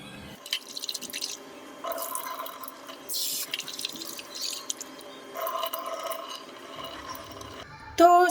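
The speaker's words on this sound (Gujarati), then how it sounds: "સરસ તેને આપણે 2 થી 3 વખત ધોઈને પલાળી દેશું" Barnyard millet (moraiyo) is rinsed in water in a bowl for a sweet kheer, with short bursts of swishing and splashing separated by quiet pauses.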